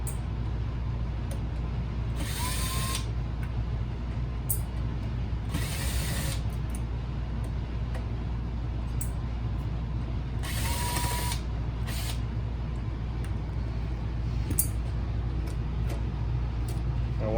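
Screws being backed out of the metal case of a Toyota navigation screen unit, heard as a few short ratcheting bursts spread across a steady low background hum.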